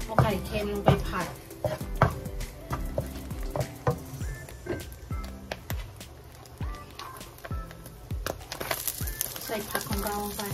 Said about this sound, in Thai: ใส่ไข่เค็มลงไปผัดก่อนนะคะพี่เจ๊ใส่น้ำมันมะพร้าวลงไปแล้วก็เอาไข่เค็มลงไปผัด